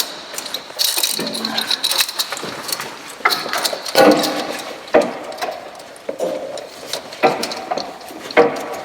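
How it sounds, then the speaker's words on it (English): A ratchet turns the oil filter during an oil change on an 80 Series Land Cruiser, giving irregular metallic clicks and clunks, close and moderately loud, with no talking. "Put it on the ratchet."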